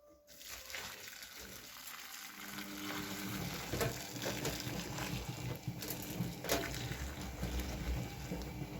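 Hot water pours and a mixture fizzes and crackles steadily, a close bubbling sizzle that keeps going with a few louder pops.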